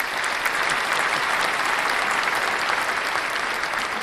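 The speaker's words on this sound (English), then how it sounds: "I think that deserves a bit of a clap." Dense, steady applause from a crowd, continuous many-handed clapping at an even level throughout, fairly loud and with no voices over it.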